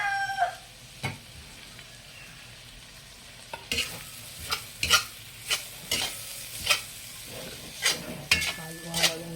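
A spoon or spatula scrapes and clanks repeatedly against a pan while stirring a cooking dish with oyster sauce, sharp knocks spaced about a second apart over a quiet background.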